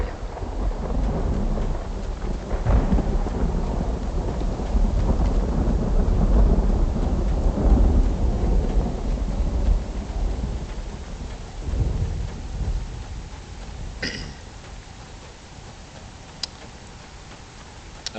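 Rain and rolling thunder from the video game Uru: Complete Chronicles, a steady loud downpour with low rumbles through the first half, easing later, with a few brief ticks and chimes near the end.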